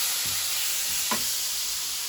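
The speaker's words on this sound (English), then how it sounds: "a spatula, and I'm stirring my chicken. It is really cool hot pan, actually." Seasoned chopped chicken for fajitas sizzles in a hot frying pan, a steady bright hiss with a couple of soft scraping strokes as a spatula stirs it.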